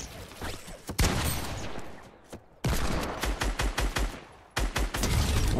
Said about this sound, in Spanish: Me ha disparado más gente, me dispara más gente.